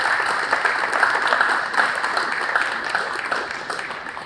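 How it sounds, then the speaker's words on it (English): Audience applause at the JA BizTown ribbon cutting, honoring Grand Rapids Community College: steady, dense clapping from a crowd, fairly close, holding evenly throughout with no talk over it. "So a big round of applause for Dr."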